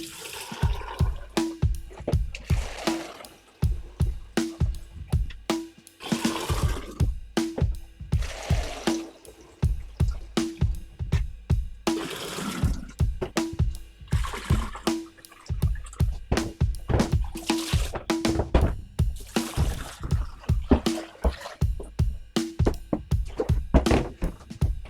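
Hot water rinses through a Pinter 3 home brewing device in a long series of splashing, gurgling pours and sloshes, with repeated thunks of plastic parts being handled, close and steady throughout.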